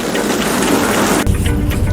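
Rain falling in Mumbai gives a loud, steady hiss that gives way after about a second to a deeper, rumbling wash of wet noise, with no voices.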